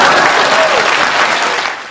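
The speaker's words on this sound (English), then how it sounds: "Please clap." Audience applause at a political event: a steady, dense wash of clapping that holds evenly for nearly two seconds, with a faint voice threading through, before easing slightly at the end.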